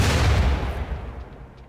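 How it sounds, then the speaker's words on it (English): Mortar fire in RimWorld combat lands as a heavy booming blast that rumbles and decays over under two seconds, alone with no voices. "here comes the mortar"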